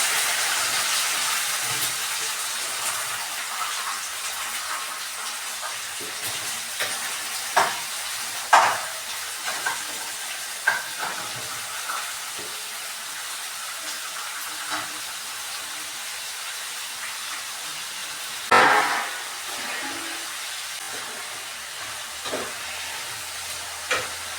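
Onion sizzles and hisses steadily in a hot pan with ginger already fried red, with intermittent louder bursts of stirring and scraping over the continuous frying.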